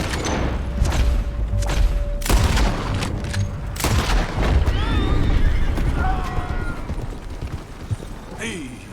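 Several sharp gunshots crack out in Red Dead Redemption 2, irregularly spaced across the moment, with a voice talking among the shots and horse hooves clopping faintly beneath.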